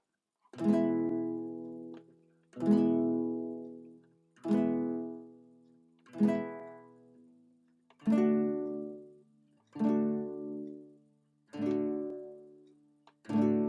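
Slow, evenly spaced strummed chords on an acoustic guitar, eight in a row, each ringing out and fading before the next strum.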